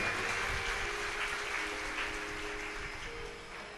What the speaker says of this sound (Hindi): एक बार इनके लिए जोरदार ताली बजाए।